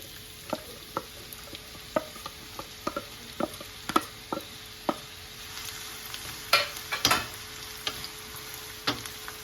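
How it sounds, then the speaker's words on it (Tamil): Chopped onion sautéing in a pan for an egg curry, with a soft steady sizzle beneath intermittent scraping stirs and light clinks of a utensil against the pan; no talking. "ஆனியன் நல்லா ப்ரௌன் ஆகிற வரைக்கும் அதை சாட்டே பண்ணலாம்"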